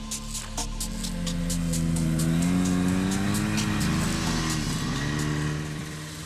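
Snowmobiles roar past in the Arctic near Mount Nuorinen in Karelia, their engine note rising and falling as they go by, loud and close with no talking.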